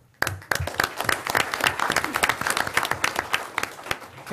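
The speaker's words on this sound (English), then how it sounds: "And a round of applause for Julie" An audience breaks into loud, dense applause that starts abruptly and carries on steadily as a close crowd of many hands clapping, with a faint voice buried underneath.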